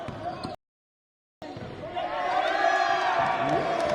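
Indoor crowd at a high school basketball game between GTA Prep and BC Christian Academy, steady murmur swelling into louder cheering, with a brief silent gap and a commentator talking throughout.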